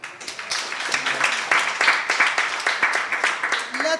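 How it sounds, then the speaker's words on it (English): A forum audience applauds panelists with dense, sustained clapping from many hands, filling the room at steady strength, with a voice faintly audible beneath it. "please let's clap for the panelists"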